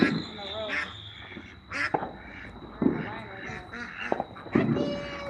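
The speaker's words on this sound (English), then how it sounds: "Fat Pekin ducks." Several Pekin ducks quack in short, scattered bursts, some louder and nearer than others, over a quiet background.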